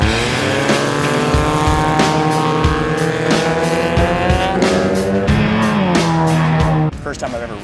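A race car roars at speed around the Laughlin track, its engine sustained and loud with rising pitch sweeps as it shifts, then dropping off abruptly near the end.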